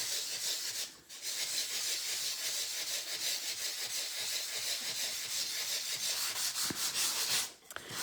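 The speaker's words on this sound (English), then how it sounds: "let's do the sanding so you can see the beautiful effect" A sanding block rubbed over a layered paper card, a steady close, hissy scraping in continuous back-and-forth strokes with two brief pauses.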